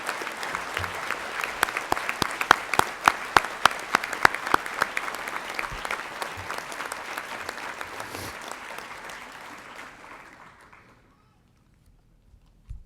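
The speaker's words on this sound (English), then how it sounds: "Please join me in a round of applause for all these active duty veterans." Sustained crowd applause at a College of Veterinary Medicine commencement ceremony, honoring active duty veterans, with dense clapping that thins and fades out near the end before silence.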